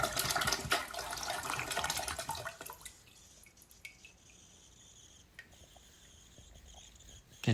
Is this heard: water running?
yes